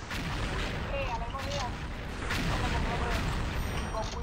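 Gunfire in the XSHOT shooter game, a steady rattle of shots and booms running through the whole stretch at moderate level, with people talking over it.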